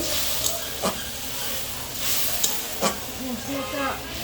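A pan of turmeric, chili, coriander and cumin paste frying in oil hisses steadily while a utensil scrapes and stirs in several strokes, close and loud, with a faint voice underneath.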